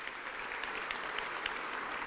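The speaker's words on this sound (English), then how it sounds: "Please give them a big round of applause." Brief, steady clapping from an audience at a Republic Day gathering in a church venue, even and sustained for about two seconds.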